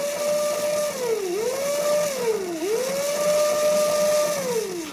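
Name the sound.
tractor gearbox running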